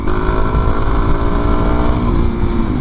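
A 2024 Suzuki DR-Z400 dual-sport motorcycle accelerating, its engine a loud, steady, close drone with a continuous buzzing tone and no talk over it.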